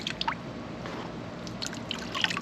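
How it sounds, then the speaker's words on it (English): Gold panning material is washed by hand in water, giving soft close sloshing, trickling and dripping with small splashes. "you just gently use your hand to wash this material out"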